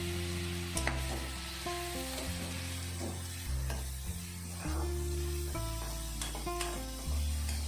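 Tomatoes sizzling and frying in a hot pan for an ivy gourd masala curry, a steady crackling hiss with occasional stirring scrapes and knocks against the pan, close and continuous with no talk.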